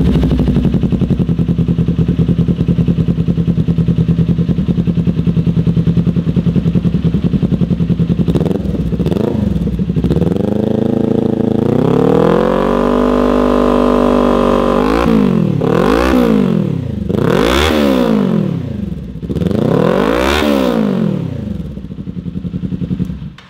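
A Kawasaki Ninja 400 with a Leo Vince LV-10 carbon slip-on exhaust idles steadily up close, then is revved through several rising and falling throttle blips, loud and alone.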